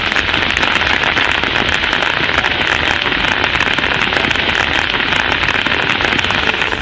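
Steady rain falls in Kodaikanal, a dense, continuous hiss of drops on surfaces with no pauses, loud and close throughout, with no voices.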